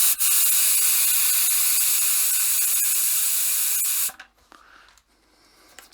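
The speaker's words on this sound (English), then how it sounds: "Now we know that the pressure relief valve works." Pressure relief valve on a Keg King Apollo fermenter venting gas, a loud steady high-pitched hiss for about four seconds that cuts off abruptly, followed by faint clicks and handling noises.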